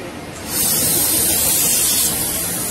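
Steady loud hissing from a leaking dual air conditioner compressor starts abruptly after a brief quieter moment and then holds continuous and close, with no talk over it.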